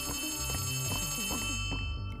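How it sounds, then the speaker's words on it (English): A telephone rings inside the video game Poppy Playtime, a steady electronic bell-like ring sounding over low background game music, with no one speaking. "Oh, is that another phone I hear?"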